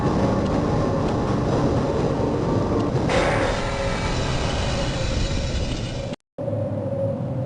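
An underground tram in the Half-Life game pulls into the Sector C test labs and control facilities with a loud, steady rumble and rattle. The tone shifts about midway, and the sound cuts out briefly near the end.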